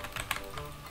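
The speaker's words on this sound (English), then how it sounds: "My keyboard is so loud." Clicks from a loud computer keyboard being typed on during wood cutting simulator play, a short cluster of sharp, close taps standing alone with no voices.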